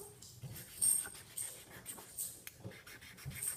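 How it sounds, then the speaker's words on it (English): A dog pants and gives soft whimpers close by, with quiet breathy bursts and faint whines coming in short irregular spells over a few seconds. "Yeah, that's my dog right there, George."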